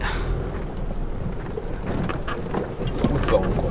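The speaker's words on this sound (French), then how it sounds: "Trop de vent encore, chiant. C'est chiant ce vent." Strong wind buffets the microphone with a continuous low rumble and gusts, over a faint wash of water.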